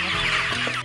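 Chickens at an egg poultry farm cluck briefly and loudly at close range during a dawn feeding, a short burst of overlapping hen calls.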